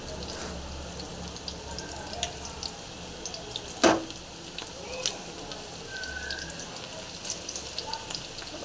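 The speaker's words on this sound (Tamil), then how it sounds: "மீந்த மாவில் வெங்காயத்தை கட் பண்ணி பண்ணி ஒரு பகடாவும் போட்டாச்சு" Onion pakoda deep-fries in hot oil with a steady, close sizzle and bubbling, broken by a few louder crackles and pops.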